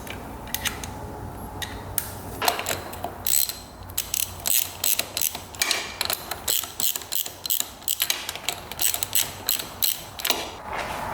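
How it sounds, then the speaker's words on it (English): A torque wrench ratchets as it tightens the cylinder head bolts on a low-compression dirt bike to 20 foot-pounds in a crisscross pattern, with steady close clicking runs broken by short pauses and no talk. "So these are going to get torqued down to 20 foot-pounds."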